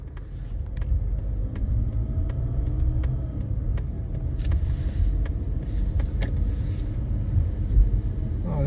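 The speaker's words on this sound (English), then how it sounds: "Now let's drive up." A car driving along a residential street, its steady engine and road rumble continuous and close throughout, with faint clicks and brief higher rattles over the drone; no talking.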